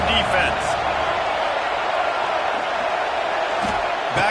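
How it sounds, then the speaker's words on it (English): Stadium crowd in a College Football 26 game, a dense steady roar filling the whole stretch with no breaks, under a commentator's voice that talks throughout. "Listen to this crowd just shaking the girders of this place,"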